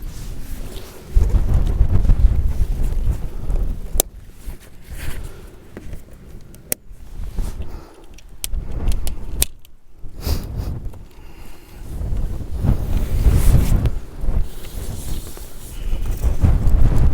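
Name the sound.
strong wind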